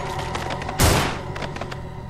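A single loud gunshot blast in the video game Manhunt 2, booming briefly over quiet clicking game background sounds.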